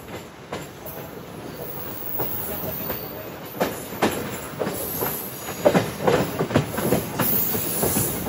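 Onboard MEMU express train 08501 between Visakhapatnam and Parvatipuram, a steady rumbling run with rhythmic wheel clacks and a faint high hiss, and a voice talking softly underneath.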